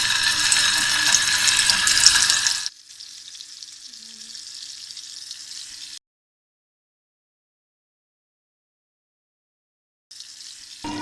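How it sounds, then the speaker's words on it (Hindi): Beef gola kababs frying in hot oil give a loud crackling sizzle that drops to a softer hiss, cuts out for a few seconds, then starts again near the end. "तो इसी तरह इन कबाबों को भी फ्राई कर लेंगे"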